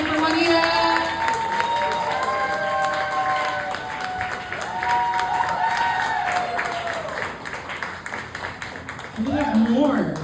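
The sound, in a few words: comedy club audience applauding and cheering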